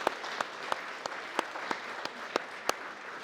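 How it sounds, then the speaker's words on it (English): Audience applause after a film conversation event, a dense steady wash of clapping with sharper individual claps standing out at regular intervals, fairly quiet and without talk. "I want to say applause for that."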